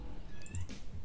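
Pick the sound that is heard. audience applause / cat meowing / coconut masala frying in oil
cat meowing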